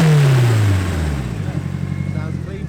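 A Nissan 180SX with an SR engine and light flywheel revs up quickly, then the note falls away and settles into a lumpy, burbling idle, close and loud.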